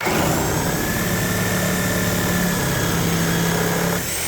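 A reciprocating saw fitted with a Milwaukee non-carbide blade cuts steadily, its loud, continuous buzzing drone held at a constant pitch before stopping abruptly near the end.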